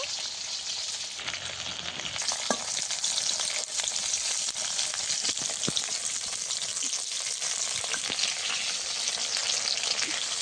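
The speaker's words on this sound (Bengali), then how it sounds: "ভালো করে উল্টো পাল্টে ভেজে নেব।" Okra pieces fry in hot oil in small batches for a vegetarian Bengali dish, giving a steady close sizzle with occasional soft clicks and scrapes as they are turned over.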